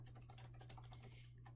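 Someone types an email address on a computer keyboard, producing a quick, steady run of soft, close key clicks over a low hum, with no talking.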